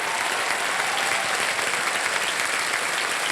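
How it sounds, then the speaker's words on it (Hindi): A studio audience on a quiz show applauds, a dense, even wash of many hands clapping at once, loud and sustained throughout with no voices over it. "तालियां बज जाएं इनके लिए।"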